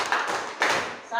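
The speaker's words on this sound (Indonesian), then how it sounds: "Oke, tepuk 1, tepuk 2, tepuk 3, tepuk 3" A classroom of students claps in rhythm, three quick group claps spaced about half a second apart, close and fairly loud.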